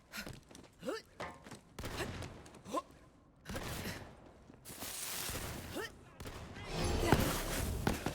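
Borderlands 3 gun fire in rapid bursts of loud cracking shots and impacts, several bursts separated by short gaps, heard over and between someone talking.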